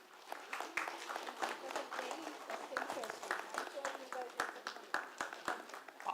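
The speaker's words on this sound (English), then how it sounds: "Let's have a big round of applause" Audience applause at an event for engineers and architects, a steady wash of many hands clapping with sharp individual claps standing out, moderately loud and sustained throughout.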